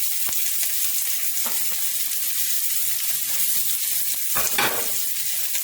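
Onion hissing in a hot wok, a dense, steady frying sizzle filling the whole stretch with a few soft clicks and a brief stirring rustle near the end, no voices.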